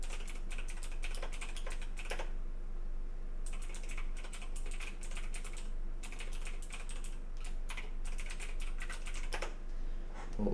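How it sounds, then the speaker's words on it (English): Fingers tap a computer keyboard in quick, irregular bursts of close clicking, separated by brief pauses, over a faint low background hum with no voices. "I'm not good at talking and typing at the same time."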